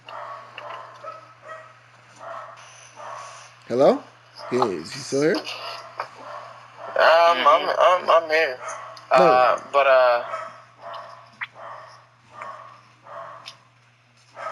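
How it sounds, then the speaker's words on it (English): Several dogs bark and yip in the background, a few sharp bursts spread through the stretch, mixed in with people talking on a podcast call. "you hear 3 dogs?"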